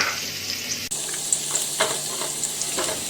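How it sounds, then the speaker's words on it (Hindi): Garlic roasting in oil over a low flame makes a steady close crackling sizzle, with a few soft stirring scrapes and one brief bump early on, with no talk. "लहसुन को भी हम स्लो पे ही भूनेंगे तो ही इसका अच्छा फ्लेवर आएगा।"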